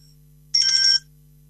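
An incoming-call telephone ringtone sounds once as a brief, clear electronic tone burst over a steady low hum.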